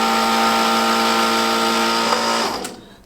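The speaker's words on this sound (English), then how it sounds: "First thing we do is take the bushings out." A power tool pressing or driving bushings out of engine connecting rods in a machine shop, a steady loud whine with a tonal hum that runs for over two seconds, then winds down and stops.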